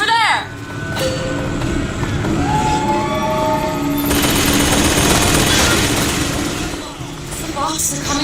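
Rocket fire and gunfire in the Bioshock Infinite video game during a gunship attack, dense and continuous, with rushing noise and mechanical rattling under a game voice that speaks throughout.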